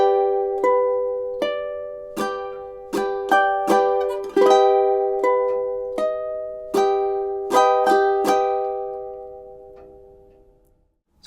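Ukulele playing a slow chord progression alone, each strummed chord ringing out and decaying, about a dozen plucked attacks in a steady rhythm that fades to silence at the end.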